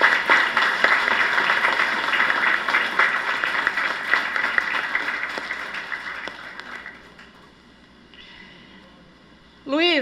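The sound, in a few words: applause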